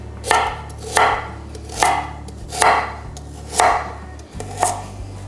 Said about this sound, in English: I'm gonna chop up my carrot